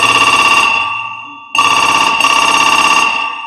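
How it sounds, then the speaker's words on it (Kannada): A telephone rings loud and close in two long electronic ringtone bursts separated by a short gap, with no voices over it. "ಈಗಲೇ ಪೊಲೀಸರಿಗೆ ಫೋನ್ ಮಾಡ್ತೀನಿ."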